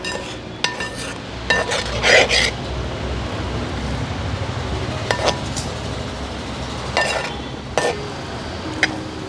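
A utensil stirs and scrapes through fried fish pieces in thick pickle gravy in a pan, with scattered metallic clinks over a steady low background hiss.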